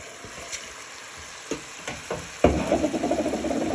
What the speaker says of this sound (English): we're just frying the onion, garlic and ginger in with our beef